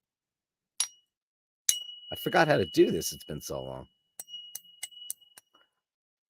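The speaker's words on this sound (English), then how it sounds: "I missed the OG gong." A small gong is struck once and rings with a thin, sustained tone that fades beneath a man's nearby speech, followed by a few light metallic clinks.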